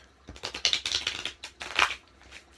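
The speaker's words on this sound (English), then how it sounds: "I'm just going to shuffle these really quick again" Quick riffle of tarot cards being shuffled, a run of crisp papery flutters building and fading over a couple of seconds, close by with no talking.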